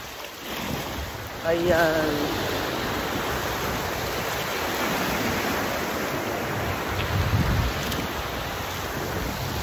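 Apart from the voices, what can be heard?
ocean waves at Guinsularan beach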